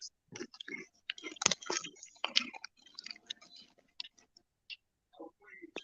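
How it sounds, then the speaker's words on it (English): Someone crunches Funyuns onion-ring snacks with close, crisp bites and chewing in irregular bursts between pauses, mixed with soft voices. "I can't hear while I'm crunching"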